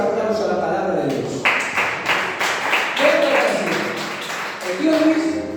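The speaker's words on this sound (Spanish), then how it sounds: "¿Cuántos dan un fuerte aplauso a la palabra de Dios?" A church congregation claps for the word of God during a sermon, scattered claps mixed with voices and sung or called-out tones.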